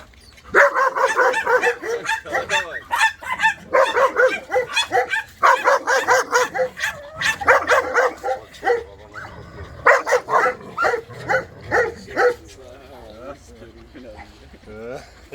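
Young Kangal puppies bark and yip in rapid, excited bursts, close by and loud, with a whimper near the end.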